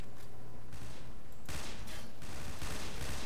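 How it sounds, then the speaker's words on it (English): Rapid gunfire bursts from a shootout with police in the video game Tactical Intervention, loud and dense volleys that intensify halfway through, with no talk over them. "Let's shoot some cops."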